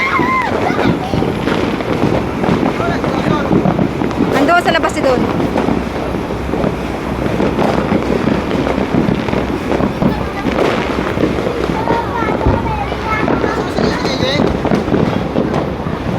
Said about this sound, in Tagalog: Libre na ang fireworks sa paligid, marami.